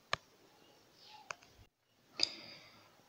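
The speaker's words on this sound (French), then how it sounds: "Donc je vais cliquer sur ça." A few sharp, quiet taps land on a phone while a link is clicked in the Trust Wallet app: one at the start, another about a second later, and a third, slightly longer click near the end, with near silence between them.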